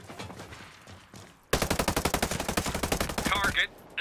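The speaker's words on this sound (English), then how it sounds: "Hostiles are shooting." Rapid automatic gunfire from a PvP firefight in Ghost Recon Breakpoint, a loud sustained burst of evenly spaced shots after a quieter stretch, ending with a short electronic warble.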